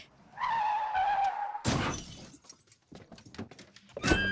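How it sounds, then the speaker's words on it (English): A sustained high-pitched squeal of skidding tires, loud and close, cut off by an abrupt crash, followed by scattered clattering debris and a final sharp impact. "And then we hear car screeching."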